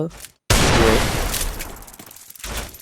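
Gunfire from the Free Fire battle royale game cracks out in a sharp burst after a brief silence and decays, with a player talking over it.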